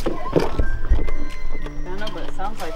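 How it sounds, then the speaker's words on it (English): An elk calls from Kentucky woods, a high, drawn-out tonal cry rising faintly in the distance beneath close talking and rustling. "we're in Kentucky and I hear an elk."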